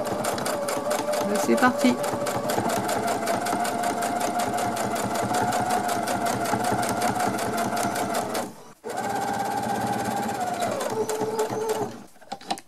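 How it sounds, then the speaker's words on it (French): A sewing machine stitches a fabric face mask in a steady, loud, rapid mechanical rattle that breaks off briefly, resumes and then stops, with a short spoken phrase near the start. "et maintenant je vais coudre l'autre côté."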